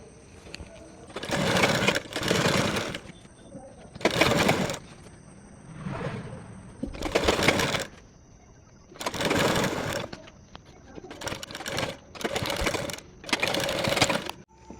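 Sewing machine stitching the side seams of a kaftan nighty, running in about eight loud bursts of steady whirring with short pauses between them.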